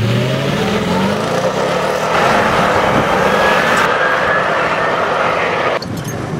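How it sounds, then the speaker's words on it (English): A 2017 Toyota Tundra with a Magnuson supercharger accelerates hard from 0 to 60, its engine roar climbing steadily in pitch with supercharger whine, loud and close, before the sound briefly drops away near the end. "we did another 0 to 60 test."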